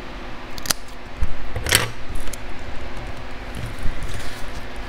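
Scissors snip through card stock for a Stampin' Up! paper craft project, a couple of sharp close cuts rising from quiet handling noise with no voice.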